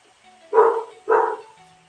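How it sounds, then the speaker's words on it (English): A dog indoors at home gives two sharp, mid-pitched barks about half a second apart, close and clear against a quiet background with no talking. "my dog's barking at something"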